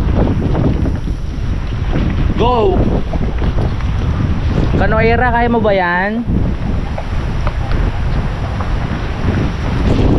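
Strong sea wind roars steadily over a small boat without outriggers heading for an island, loud and unbroken throughout, with people shouting and talking above it.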